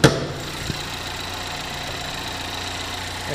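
A GMC Terrain with a 2.4 liter Ecotec engine idles steadily and close by, a low even hum with a faint rattle after a brief knock at the start.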